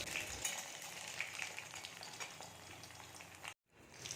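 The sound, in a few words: chicken nuggets frying in a pan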